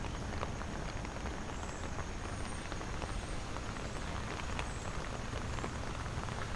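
Steady rain pours down across Manhattan during Tropical Storm Henri, a dense, even hiss of drops striking pavement and surfaces with no letup, close and constant throughout.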